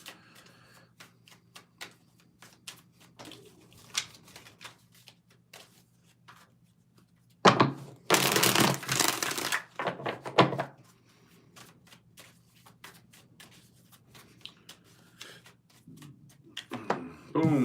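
Tarot cards being shuffled by hand, mostly soft scattered taps and rustles with one loud, dense riffling burst in the middle, close and alone.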